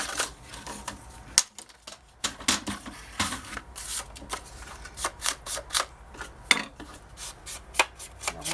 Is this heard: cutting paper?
yes